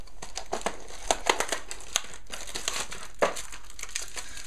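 Foil trading card booster packs are torn open and handled, producing repeated sharp crinkles and crackling rips in irregular bursts, close and fairly loud.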